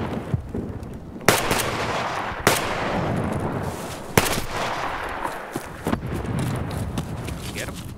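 Video game gunfire rings out as several sharp single shots spaced a second or more apart over a rumbling battlefield bed, with players talking over radio throughout.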